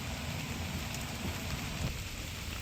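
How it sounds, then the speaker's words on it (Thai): Steady rain falling outdoors in a rural forest setting during a wild junglefowl hunting trip, a dense continuous hiss with no voices. "ฝนตก แดดดีๆก่อน"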